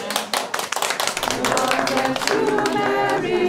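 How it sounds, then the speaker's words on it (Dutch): An audience claps at a Christmas fair in Dokkum, starting with scattered claps and swelling into dense, loud continuous applause, with a voice speaking over it. "Applaus weer."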